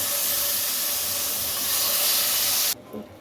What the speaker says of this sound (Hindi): आधे घंटे के बाद एक फ्राई पैन लें और इसमें हमने जो चिकन मैरिनेट किया है उसमें से सिर्फ चिकन निकाल कर वो इस फ्राई पैन में रख दें।